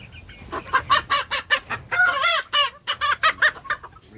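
Cochin bantam hens cluck in a quick run of sharp, close calls, with a few drawn-out, wavering cries mixed into the steady chatter.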